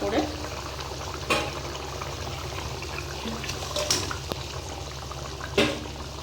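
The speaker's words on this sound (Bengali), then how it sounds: "এবার কিন্তু আমি মাছগুলো সব এর মধ্যে দিয়ে দেবো একটা একটা করে।" Fried tilapia pieces are added one by one to a simmering potato fish curry, giving a bubbling liquid wash with a few soft splashes and clunks; someone speaks over it.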